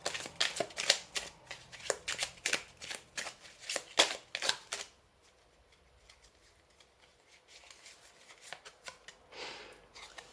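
Tarot cards being shuffled, a quick run of crisp riffling flicks for about five seconds, then quieter occasional card handling.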